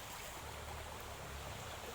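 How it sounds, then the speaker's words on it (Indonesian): A river stream flows beside an onion-growing plot in a steady, dense rush of water, constant and close, with no talk over it. "Ini adalah sungai yang saya barusan sebutkan."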